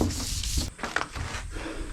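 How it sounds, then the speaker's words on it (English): Sandpaper rubs steadily over a plastic car part being prepped for spray paint, a close, continuous rasping scrape with one brief pause partway through and no talking. "So I've sanded this for about 10 minutes in total"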